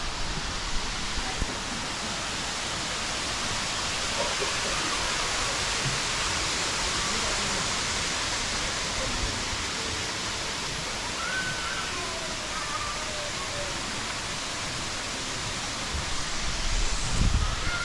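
Top of the Lower Gorge Falls at Bushkill Falls, a broad steady rush of falling water roaring close and constant, with faint voices of visitors briefly underneath.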